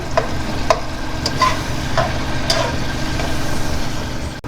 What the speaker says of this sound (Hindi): टमाटर को थोड़ा इस तरह पीस लेते हैं, ऐसा से पीसिएगा, तेल वगैरह उड़ के चेहरे पे ना आ जाए